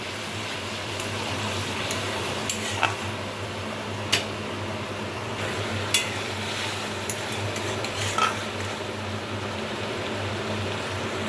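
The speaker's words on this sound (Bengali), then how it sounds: "নিয়ে নেব পরিমাণ মতো হলুদ লঙ্কা বাটা খুব ভালোভাবে কষিয়ে নিতে হবে" Turmeric and chili paste sautés in a pan with a low, continuous sizzle and bubbling, broken by a few sharp spoon scrapes and clinks against the metal. No one speaks.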